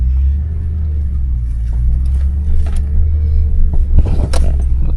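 A truck engine rumbles at a building site where a temporary power pole is being connected, a steady deep drone close by that swells slightly toward the end.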